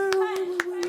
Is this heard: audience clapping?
yes